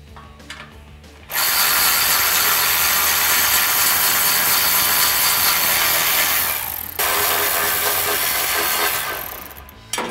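Ratchet wrench clicking steadily as it backs out 13mm bolts at an exhaust resonator flange on a 2015-2018 Ford F150 5.0L, loud and close, continuous for several seconds with a short pause near the end and no talk.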